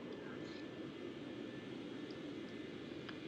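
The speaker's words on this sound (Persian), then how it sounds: "خب APU switch start تا اینکه دور خودش رو بگیره." The APU of an MD88 airliner spools up in the X-Plane 12 flight simulator, a steady broadband turbine roar that holds even and moderately loud throughout.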